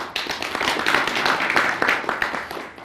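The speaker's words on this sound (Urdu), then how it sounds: "ان کے ٹیلنٹ کے لیے جی دوبارہ سے تالیاں ہو جائیں." Audience clapping for a sitar player at a traditional Gilgit-Baltistan music and dance gathering: a dense, steady patter of many hands, fairly close and sustained for about three seconds, with no other sound above it.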